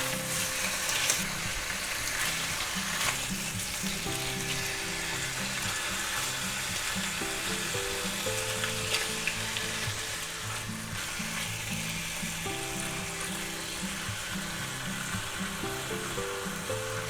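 Turkey and cheese sandwiches with tomato sizzle steadily in a hot pan, a continuous crackling fry with occasional scraping and handling noises, while background music plays underneath.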